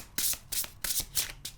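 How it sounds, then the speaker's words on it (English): A large tarot deck is riffle-shuffled in several quick bursts, crisp papery flutters close to the ear with brief pauses between. "Let's give her a shuffle test"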